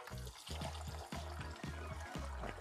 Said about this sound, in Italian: Andiamo ad inserire all'interno l'acqua